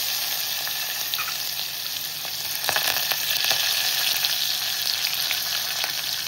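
Ginger, garlic, cumin, asafoetida and chillies frying in hot oil for a chana masala, a bright, steady hiss of sizzling with faint stirring ticks, close and without talk.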